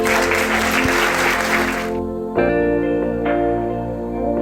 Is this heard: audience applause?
yes